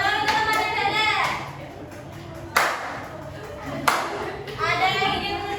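A classroom of children claps hands in short, sharp bursts, with a few distinct loud claps separated by pauses, while a teacher and kids talk in between.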